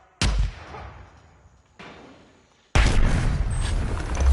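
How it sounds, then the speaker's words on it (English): Grenade and flashbang blasts in the Predator: Hunting Grounds video game: two sharp booms with decaying tails, then a heavy sustained roar from a third explosion, loud and close, with no voices. "Throwing flash! Flashbang out! Eyes down! Frag out!"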